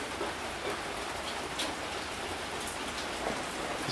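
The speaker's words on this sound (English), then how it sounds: "It's raining outside right now," Steady rain falling outside, a dense even hiss of drops on surfaces, constant and fairly loud with no talking.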